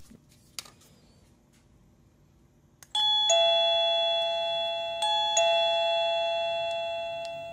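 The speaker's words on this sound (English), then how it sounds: "trigger our doorbell to capture the code being sent." A remote-control wireless doorbell chimes loudly and close, two bright ringing tones that sustain and slowly decay, preceded by a faint click or two and quiet background.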